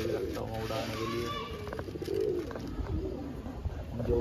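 Pet pigeons kept for flying, cooing in low rolling calls with a few brief chirps, heard close under a man's speech.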